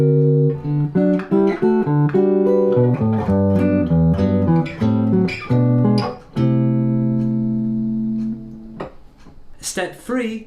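Jazz guitar plays a chord melody of a standard, with plucked chords moving under a melody line at a steady, unhurried pace, close and clear and without talk, ending with a few lighter strums.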